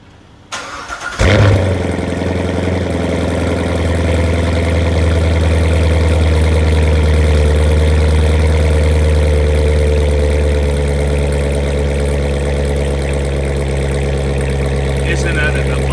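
A Corvette C7 with a PP performance exhaust cold-starts on a chilly morning: a sharp crank and loud roaring catch, then a deep, steady, rumbling idle close by that holds strong for the rest of the clip.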